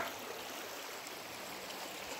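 Flowing stream water at a quiet outdoor spot gives a soft, continuous babble with faint gurgles, steady and fairly distant throughout.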